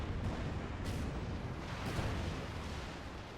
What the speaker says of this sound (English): Anyway, artillery coming down. Actually gets a good hit.